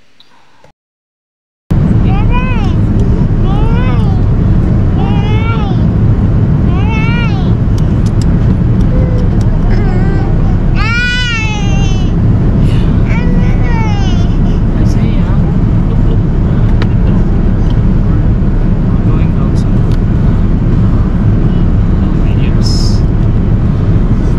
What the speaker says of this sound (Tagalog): Nararamdaman ko na pababa na ang eroplano